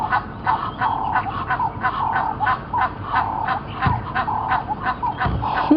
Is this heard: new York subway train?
no